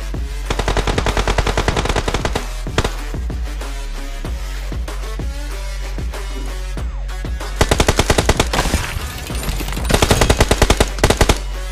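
Close, loud automatic gunfire from the BGMI (PUBG) battle royale game rattles in rapid repeated bursts, with a few brief pauses and heavier volleys near the end.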